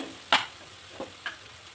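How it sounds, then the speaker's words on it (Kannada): Bun toast frying with turmeric, chili powder and masala powder is stirred in the pan, giving three short scraping clicks over a faint steady sizzle, with no talk. "ಸ್ವಲ್ಪ ಅರಿಶಿನ, ಖಾರ ಪುಡಿ, ಮಸಾಲ ಪೌಡರ್ ಇದನ್ನಿಷ್ಟನ್ನು ಚೆನ್ನಾಗಿ ಮಿಕ್ಸ್ ಮಾಡ್ಕೊಳ್ರಿ"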